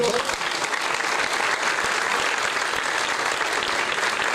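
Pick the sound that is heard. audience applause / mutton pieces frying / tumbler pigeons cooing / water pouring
audience applause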